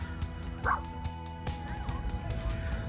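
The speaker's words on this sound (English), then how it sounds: "cute little doggy seems to be excited" A small, excited dog barks and yips briefly at a Hollywood park, with a couple of short bursts over steady outdoor background noise.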